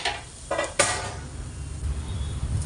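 Chopped onion is sautéed in oil in a kadai: a couple of metallic clanks at the start, then a steady, fairly quiet sizzle that continues alone.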